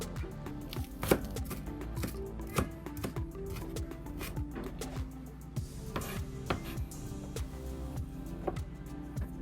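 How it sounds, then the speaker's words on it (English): A knife chops scallion on a cutting board in a home kitchen, with quick repeated taps. The chopping stays close and steady over low background hum. "You cut the scallion."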